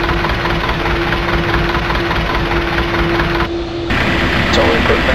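Airliner jet engines idle after start in Flight Simulator X, a steady loud drone with a constant whine and a low hum, with a voice talking over it.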